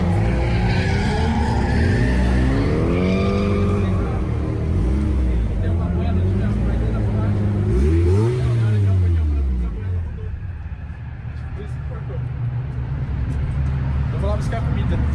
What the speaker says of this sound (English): And here's Fausto's car.